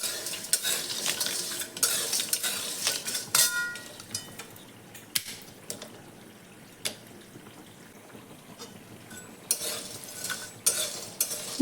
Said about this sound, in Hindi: उसी कढ़ाई में हम गरम मसाले को गरम करेंगे। उसे एकदम हल्का गरम करना है।